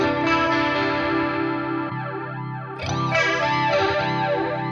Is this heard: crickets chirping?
no